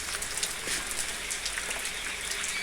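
Steady rain falls on a village at Hediya, a dense continuous patter of drops hitting surfaces close by, with no voices.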